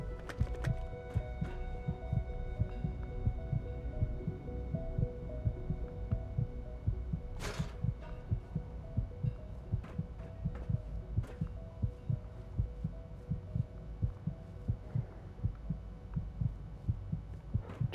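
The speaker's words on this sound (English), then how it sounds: "I could hear my heartbeat because I'm low health." A low-health heartbeat effect in the video game Fallout 4 thumps steadily in a regular double-beat rhythm, deep and muffled, repeating throughout under a faint hum with a few brief clicks.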